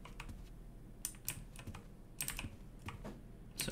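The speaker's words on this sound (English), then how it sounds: "The fucking keyboard." Computer keyboard typing in the video game Black Mesa: a few quick bursts of close, crisp key clicks separated by short pauses, with no talking.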